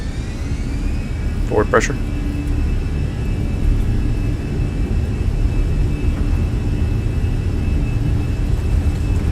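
A320 jet engines spool up on the takeoff roll in the MSFS flight simulator: a steady, loud low roar with a thin high whine throughout, and a voice speaks briefly near the start.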